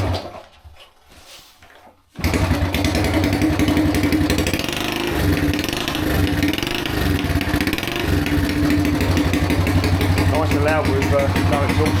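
Honda motorcycle engine running with no exhaust fitted, bursting into a loud, harsh, steady roar after a quiet start and holding on close up for the rest of the clip.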